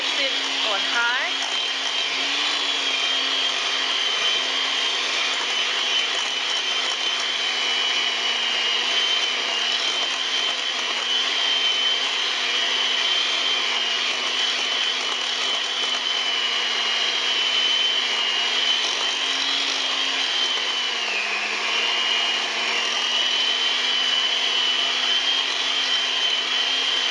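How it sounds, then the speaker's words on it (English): A cheap electric hand mixer runs on high through lemon pound cake batter made from a Betty Crocker lemon cake mix, giving a steady, close motor whine that holds for the whole stretch with small pitch wobbles. "As you can see, I have like a cheap blender or mixer."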